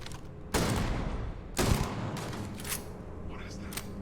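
Shotgun blasts from the video game Starfield, two heavy booming shots with short decaying tails, followed by fainter mechanical clunks, with a player talking over the game sound.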